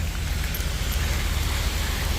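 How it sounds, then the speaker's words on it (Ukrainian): Steady rain hissing across a broad band, with a low rumbling undertone, constant and fairly loud with no voices. "дощ сильніше починається"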